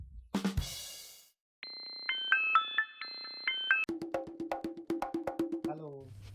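A phone ringtone plays a bright electronic melody of beeping tones, close and clear, following a brief voice at the start.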